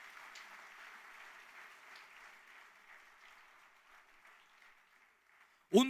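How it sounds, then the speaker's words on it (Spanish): Church congregation applauding during a Spanish-language sermon, a soft, steady patter of clapping in a hall that thins out before a sudden loud voice breaks in at the end. "Aplauda al Rey de Gloria"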